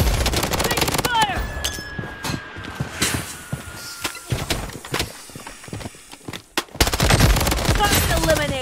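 Rapid bursts of automatic gunfire in the Bloodstrike shooter game, loud and dense in rattling volleys that pause briefly and then resume, with game voice callouts heard over the shooting.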